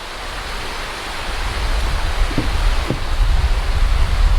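Small waterfalls along a creek on the West Rim Trail in Pennsylvania's Grand Canyon, a steady broadband rush of falling water that grows slightly louder, with a couple of faint knocks.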